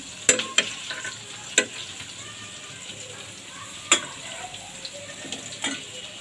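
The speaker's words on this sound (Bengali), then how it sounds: "এখন আরও একটা রুটি আমি সেঁকে দেখাচ্ছি।" A roti is toasted on a pan. Soft sizzling and scraping run throughout, broken by a few sharp clinks and taps of a utensil on metal at irregular moments.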